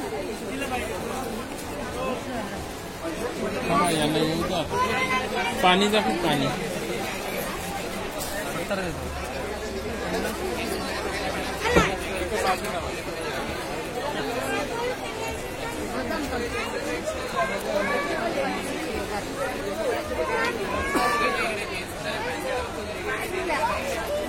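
Dense crowd chatter at Tulshibag's busy shopping market: many overlapping voices form a steady, close hubbub throughout, with individual speakers occasionally rising above the babble.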